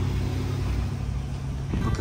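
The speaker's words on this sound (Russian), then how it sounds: "Тут машин полно, очень много машин, прям заезжают подряд" Several cars moving through a parking area beside rock formations in the mountains, a steady low engine rumble with a slight rise in revving near the end, close and continuous.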